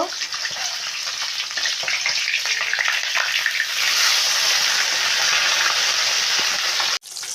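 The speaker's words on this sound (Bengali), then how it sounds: "এক সাইড আমার ভাজা হয়ে গিয়েছে এখন উল্টে নেব" Sarputi fish frying on their flipped side in a wok of hot oil, a dense continuous sizzle and spatter heard close, swelling slightly midway before a brief sharp cut near the end.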